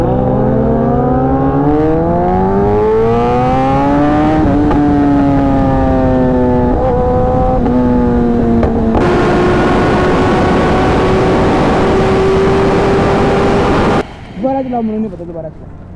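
A loud Kawasaki ZX-10R motorcycle engine revs up and holds a steady roar on a highway, then cuts back near the end, with voices briefly audible over it.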